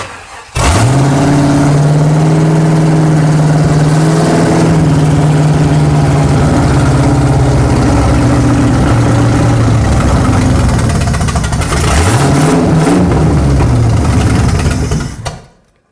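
A 1955 Buick Special engine revs hard through an open header, starting abruptly, holding a loud sustained roar that sags in pitch, then a second quick blip near the end before cutting off sharply.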